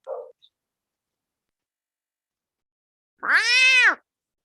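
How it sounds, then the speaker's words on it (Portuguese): A cat meows once, a single loud drawn-out call rising and falling that carries on alone after a long silence, with a brief faint voice sound at the start. "Olha o gato aí."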